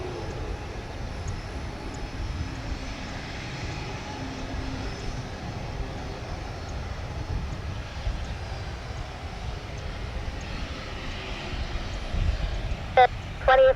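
Steady broadband roar of airliners such as a Boeing 737 MAX 8 and an Airbus A330 at Orlando International Airport on a windy morning, with wind rumble throughout and a few sharp knocks near the end.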